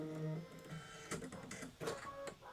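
An embroidery machine stitches through a thick build-up of thread, giving quiet, uneven mechanical whirring and tapping with a few brief tonal whines, heard close and alone.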